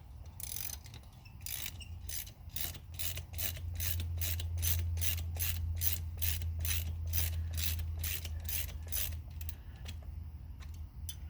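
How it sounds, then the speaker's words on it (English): A ratchet wrench loosens nuts on the wheel studs of a Yamaha Gemini scooter, a quiet, rapid run of regular clicks repeating for several seconds, close and without talk. "let me take a moment and loosen up my studs, my nuts there"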